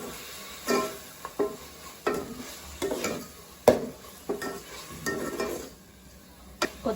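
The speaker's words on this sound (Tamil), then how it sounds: "நல்லா வதங்கி மசிஞ்சு வரணும், அது வரைக்கும் வதக்குவோம்." Onions and tomatoes being sautéed and stirred in a pan for chicken biryani, with repeated scraping stirs and clinks of a utensil against the pan over a soft sizzle, close and steady.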